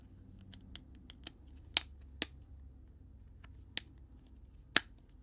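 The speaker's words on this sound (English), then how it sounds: "You should hear a clicking sound" An iPhone 16 Pro Max connector is pressed into place during a back glass replacement, giving a handful of small, sharp clicks scattered over a few seconds, quiet and close with faint handling noise.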